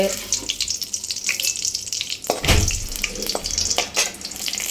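A bay leaf drops into hot oil in a pan while masala chicken is being made, setting off a steady sizzle with a louder burst near the middle and some clinks of handling.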